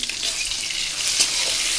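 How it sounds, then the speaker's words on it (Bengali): Potatoes frying in a pan with dried red chilli, panch phoron, salt and turmeric give a steady, close sizzling hiss that holds evenly throughout, with no voices. "আলুটাও ভেজে নিচ্ছি"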